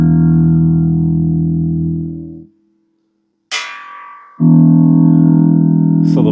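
A homemade electric bass guitar plugged into a guitar amp sounds single low sustained notes that ring and decay, with a pause, a sharp string attack, then another long held note.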